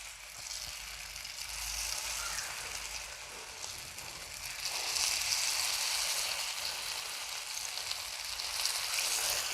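Chicken lollipop pieces fry in hot oil with a steady, moderately loud bubbling sizzle that swells slightly midway, close and continuous, with no talking.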